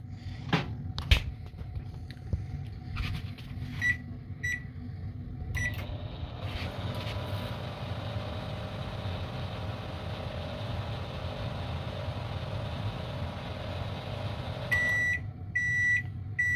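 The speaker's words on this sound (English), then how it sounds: "I just want to make sure the microwave is heating" A microwave oven that had not been heating hums steadily for most of the stretch, with a few clicks and beeps near the start and short electronic beeps at the end.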